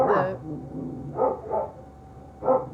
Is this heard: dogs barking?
yes